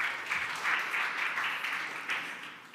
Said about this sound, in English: let's give a round of applause for Carlos